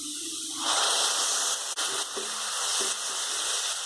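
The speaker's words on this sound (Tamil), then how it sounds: "இது வெங்காயம் ஓரளவுக்கு நல்லா வதங்கி வரட்டும்" Onion and ground tomato paste sautéing in a hot pan, a steady bright sizzle that swells as the paste goes in, with a couple of faint utensil taps, alone without talk.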